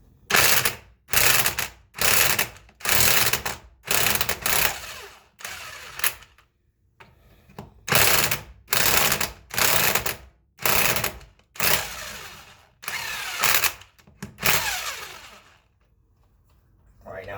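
Impact gun hammering loose Jeep lug nuts in a series of short, loud bursts about a second apart, with brief pauses between them and a quiet stretch near the end.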